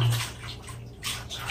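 A puppy, a mixed-breed Korean dog, gets its first bath as water splashes and pours steadily in a tub, close and continuous with a few louder surges and no talking.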